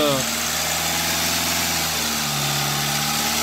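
A car engine at about 90 degrees with a head gasket leak idles steadily nearby, a constant low, throbbing hum that stays even throughout.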